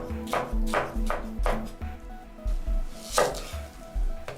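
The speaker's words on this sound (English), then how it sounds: "Chop the peppers." A knife chops peppers on a cutting board, giving loud, close, evenly spaced thuds in a steady rhythm with a short pause partway through.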